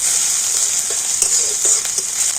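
Crushed ginger and green chili frying in hot oil for a singara filling, a steady bright sizzle with soft scraping stirs throughout, no voices.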